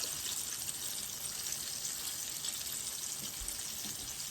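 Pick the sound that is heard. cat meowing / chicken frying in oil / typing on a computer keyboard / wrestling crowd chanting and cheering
chicken frying in oil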